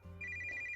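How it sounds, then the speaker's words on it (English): A mobile phone rings in a pocket with a steady electronic tone that starts after a brief pause and holds at moderate loudness, with no talking. "My phone goes off in my pocket once again"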